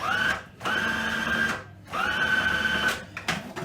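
An electric mixer briefly beating baking soda into cookie batter made with coconut flour, peanut butter and chocolate, whirring in three short bursts with brief pauses between, close and steady.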